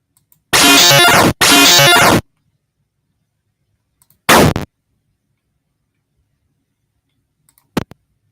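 Explosion sound effects from a Kaboom.js browser game play as loud, sharp bursts of noise: two long blasts back to back, then a shorter one, and a quick faint crackle near the end, with silence between them.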